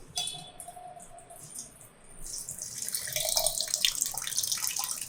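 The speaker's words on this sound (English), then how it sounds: "Putting water." Water is poured into a pot for rasam in a home kitchen with an induction stove, starting as a faint trickle and swelling into a steady, splashing flow.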